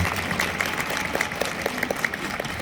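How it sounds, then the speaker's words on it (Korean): Crowd applause at a table tennis association tournament in Gwangju, a continuous, moderately distant patter of many hands clapping with no talk over it. "이런 대회를 성황에 이렇게 개최를 해주신 우리 박석인 회장님 다시 한번 감사의 박수 한번 네, 네, 좀 쳐드렸으면 좋겠습니다."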